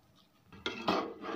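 A spoon stirs grated carrots and milk in a pan for gajar halwa, making a few quick, fairly quiet scrapes and clinks against the metal.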